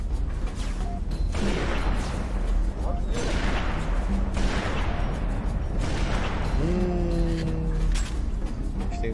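Dense bursts of Halo 3 ODST video game gunfire and booming explosions fill the mix, loud and continuous, with a rising whine near the end and a voice briefly under it.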